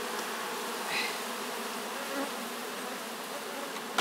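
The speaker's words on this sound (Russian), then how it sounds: "Сейчас будем пчел убирать и на откачку принесем." Honey bees buzz steadily around an apiary hive during the summer honey harvest, a dense continuous drone close by with no talking.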